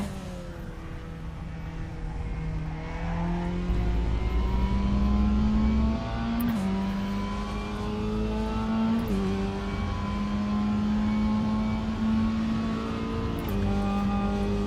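Race car engine in the RaceRoom racing game, a steady droning whine with gear shifts and revving that climbs and holds, heard alone with no talking.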